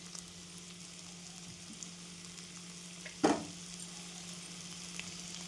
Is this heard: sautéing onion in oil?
yes